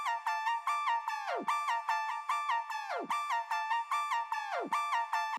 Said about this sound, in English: Lead is called AI Dog, and it sounds like this.